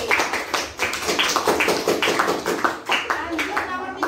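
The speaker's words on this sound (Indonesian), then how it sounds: "Tepuk tangan buat Desi." Classroom applause for a student, a rhythmic burst of hand clapping in quick repeated beats, mixed with children's voices talking and calling out throughout.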